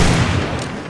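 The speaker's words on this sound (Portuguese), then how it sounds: "Dois tiros." A quick burst of loud video game gunfire from 7 Days to Die, two close sharp shots blending into a short rattling echo.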